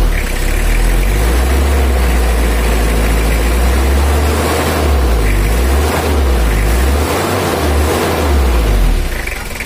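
A Toyota Kijang diesel engine with a rough-running fault and weak power idles close by, a loud, steady low rumble with an uneven throbbing pulse that continues throughout with no talk over it.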